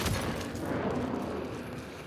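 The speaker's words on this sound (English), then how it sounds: "I see gunfire that way, so I think there's a team fighting there." Distant gunfire and explosions rumble through a video game battle, a dense, continuous stream of muffled shots and booms heard from far off with no pause.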